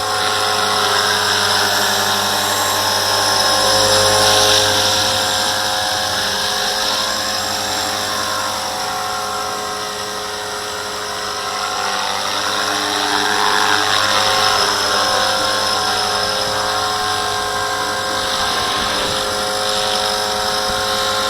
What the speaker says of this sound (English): The Walkera V450D01. It's a really good 3D helicopter for starting off.